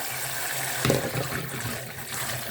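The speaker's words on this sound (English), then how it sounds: "And basically I'm just going to wash this until it is clean." Broad beans rinsed under running water in a bowl: a continuous close gushing and splashing with brief swells as the beans are stirred, and no voices.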